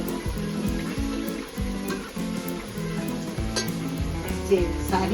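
Vegetables with softened tomato sizzling and being stirred in a pan for vegetable biryani, a steady, loud, close frying hiss with scraping stir sounds throughout.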